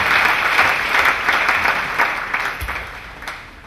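Audience applause fills a church deliverance service, sustained steady clapping from a large crowd at close range with no talk over it.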